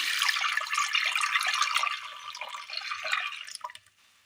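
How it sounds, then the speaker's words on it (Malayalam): Rice water (kanji) pours into a curry pan of onion and tomato as a close, bubbling, splashing stream that tapers off into a few last drips. "ഇതിലേക്ക് കഞ്ഞിവെള്ളം ഒഴിച്ചു കൊടുക്കാം"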